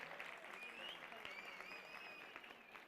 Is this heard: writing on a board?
no